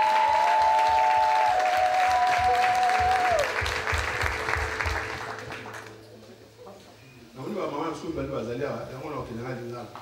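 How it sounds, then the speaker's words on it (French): A church congregation in Aachen applauds loudly for several seconds, then the clapping fades into voices and murmuring in a reverberant church. "Ein sauberes Amen mit Applaus."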